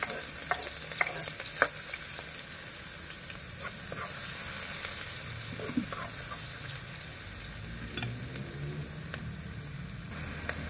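Onion and garlic sautéing in a pan, a steady close sizzle with occasional sharp scrapes and clicks of a utensil stirring, over a faint low background hum.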